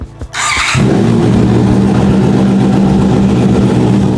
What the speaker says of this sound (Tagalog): paandarin natin yung motor, tapos check natin kung nasa tamang level ba